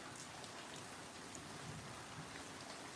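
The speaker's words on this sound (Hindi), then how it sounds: "हवा, बारिश।" Steady rain falling in windy weather, a dense continuous hiss of drops pattering on surfaces, even and unbroken throughout, with no voices.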